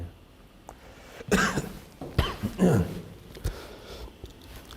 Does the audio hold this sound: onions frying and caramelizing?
no